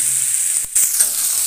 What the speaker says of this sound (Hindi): अभी हम जो आलू और बैंगन काट के रखे थे उसको दे देंगे।